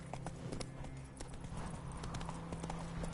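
Horse hooves clip-clop at a steady trot in The Witcher 3: Wild Hunt, a rhythmic stream of light thuds running throughout beneath a dense bed of game sound.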